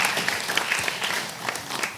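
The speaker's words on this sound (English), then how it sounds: "a round of applause for our panelists," An audience applauds panelists at a CV session event, a steady wash of clapping hands that carries on across the whole moment with no talk over it.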